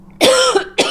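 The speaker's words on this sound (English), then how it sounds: "About to have a coughing fit." A person coughs loudly and close up, one long harsh rasping cough followed by a shorter second burst.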